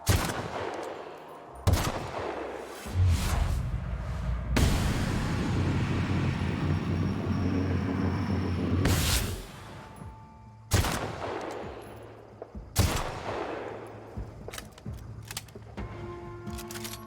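Assault rifle fire in The Outer Worlds, several loud sustained bursts of rapid shots separated by short quieter gaps, with game ambience underneath.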